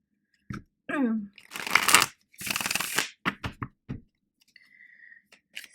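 Tarot cards handled and shuffled close up, with crisp riffling bursts, flicks and taps in uneven clusters, plus a brief vocal sound early and a short tone near the end.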